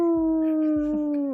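A person imitates a wolf howl on a Brazilian geek TV show, one sustained, slightly falling tonal howl lasting over a second that tails off at the end, loud and close with no other talk.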